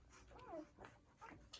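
Newborn poodle puppies whimper while nursing, giving short, faint, high squeaks and whines in quick succession close by, with soft rustling between the cries.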